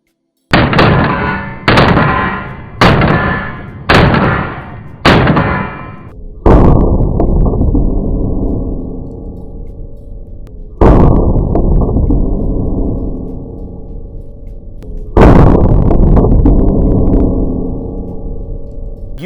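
Metal frame pistols, including a 22-ounce DR920L and a 40-ounce gun, fired in a string of loud close shots: five quick sharp reports, then three heavier booming blasts spaced several seconds apart with long ringing decay.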